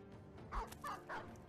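A dog barking in the video game Battle Brothers, heard as three short barks in quick succession, faint and set over a low background hum, with no talk.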